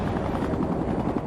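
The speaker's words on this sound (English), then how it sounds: "Traveling in unmarked black helicopters, they headed out 20 miles off the coast of Florida" An unmarked black helicopter flies off the Florida coast, its rotor and engine a steady, loud, dense drone that fills the whole stretch without pause.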